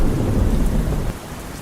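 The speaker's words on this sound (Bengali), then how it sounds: "রাত হলো, বৃষ্টি এখনো ঝরছে" Thunderstorm with heavy rain: a deep rolling rumble of thunder over a dense wash of rainfall that eases noticeably near the end, loud and with no talking.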